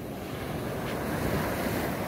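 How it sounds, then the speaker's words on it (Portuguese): Sea waves roll onto a shore at low tide near a river mouth in a steady, continuous wash, mixed with gusting wind buffeting the microphone, loud and unbroken, with no voices. "O mar tá muito bonito. A maré tá baixando."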